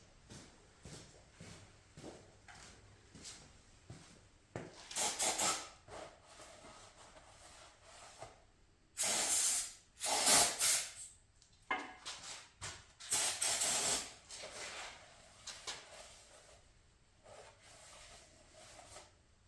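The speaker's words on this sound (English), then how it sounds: "Good old brake cleaner." Aerosol brake cleaner sprayed in several bursts onto parts of a torn-down Subaru 2.5i engine, loud hissing blasts between quieter rubbing and handling noises.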